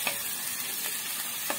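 Tuna frying in a pan with peppers and onion gives a steady, close sizzle with a few soft stirring scrapes, constant and alone.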